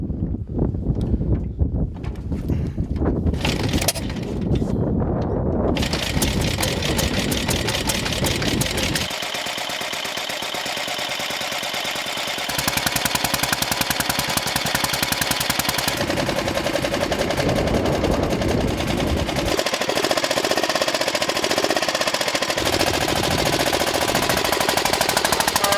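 An NSU 601 OSL overhead-valve sport motorcycle engine pops and chatters rapidly at close range, then revs harder and pulls away in loud, uneven surges for nearly half a minute.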